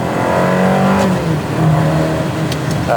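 A Ferrari 360 engine drops through a downshift with no throttle blip, giving a loud, close, droning exhaust note that sags in pitch and then settles into a rough, uneven hum.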